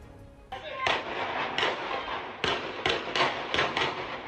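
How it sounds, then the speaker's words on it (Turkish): Gunfire rings out in a street shootout between armed groups: about eight loud, sharp shots at irregular intervals over a continuous noisy background. "Taraflar sokak ortasında dakikalarca çatıştı. Şehir eşkıyaları sokak ortasında kurşun yağdırdı."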